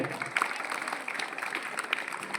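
Schoolchildren clap with their hands during a school gathering, a steady, dense patter of small hands that holds for a couple of seconds at moderate loudness with a few sharper claps.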